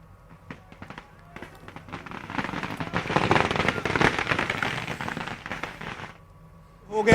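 Celebratory fireworks crackle and pop at BJP headquarters, a dense burst of rapid bangs and crackling swelling in the middle and fading out, with scattered crowd noise and voices around it.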